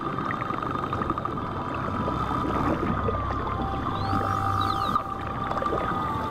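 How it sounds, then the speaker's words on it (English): Pilot whales whistle and call underwater in the Strait of Bonifacio off Sardinia, with rising and falling tonal whistles over a steady rushing water backdrop and low rumble, heard close and continuous. "Pilot whales are a very social bunch and communicate with a large repertoire of whistles and other sounds."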